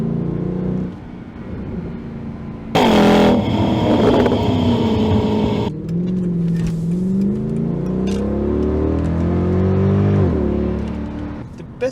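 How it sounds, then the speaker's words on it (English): Mercedes W211 E63 AMG V8 exhaust with secondary catalytic converters deleted, heard from the cabin while driving: a deep steady drone, a brief loud surge of revving, then lower rumbling with crackling burble as the throttle eases. "When you let off the gas just lightly, there's slight burble in the back."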